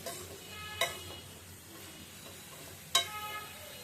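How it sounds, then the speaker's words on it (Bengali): Curry ingredients being stirred and mixed in a pan, with a faint low sizzle under two sharp scraping clinks of a utensil against the pan, spaced a couple of seconds apart. "তো সবগুলো মিশিয়ে দিচ্ছি"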